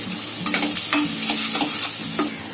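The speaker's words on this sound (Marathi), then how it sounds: "त्याच्यामध्ये कांदा टाकणार." Onion frying in a small amount of hot oil for a fenugreek vegetable dish, a loud close crackling sizzle with scraping stirring strokes throughout.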